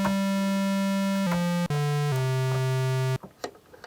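Sustained tones from a Behringer CAT synthesizer's second oscillator, with dense, buzzy harmonics, stepping down in pitch through several held notes before cutting to faint noise.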